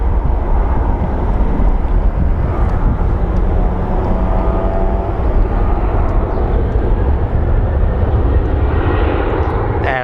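Airliner climbing away from Phoenix Sky Harbor airport, a loud sustained jet roar heard from the ground, broad and rumbling with wind buffeting the microphone throughout.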